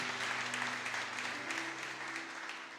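A church congregation applauding during a family worship service, a dense, even wash of many clapping hands that tapers slightly toward the end, with faint sustained music tones underneath.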